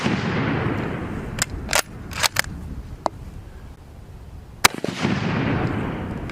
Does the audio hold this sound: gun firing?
yes